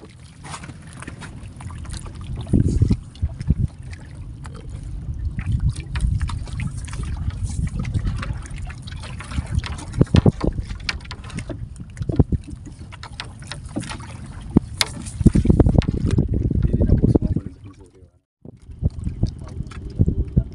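A boat engine runs on open water during a fishing trip. A steady low drone mixes with wind, water splashes and occasional knocks, and the level rises and dips through the clip.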